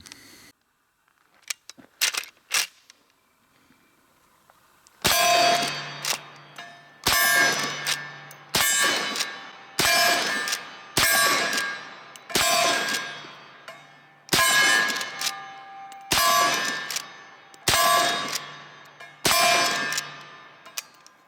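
A Henry Big Boy All-Weather lever action rifle fires .357 Magnum rounds at steel targets: about ten sharp shots, each followed by a ringing metallic clang, spaced roughly a second or two apart after a few faint clicks.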